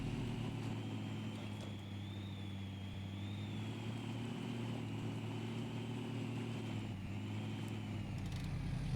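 Ford F500 truck engine in the game SnowRunner, a steady low idle drone with a faint higher whine riding over it, constant and moderately loud with no talk.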